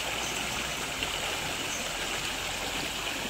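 A river rushes past close by in a steady, dense wash of flowing water, continuous and even throughout, with no voices.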